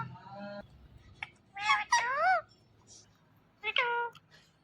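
A green parrot imitates a cat's meow in several clear, wavering calls at close range, with a few brief squawks and clicks between them.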